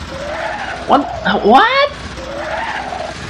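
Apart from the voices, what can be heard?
car skidding as it is called in Banjo Kazooie: Nuts & Bolts video game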